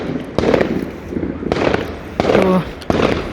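Fireworks and firecrackers go off on Bonfire Night in Manchester: several loud, sharp bangs at irregular intervals, with crackling and rumbling between them, and a voice faintly present underneath.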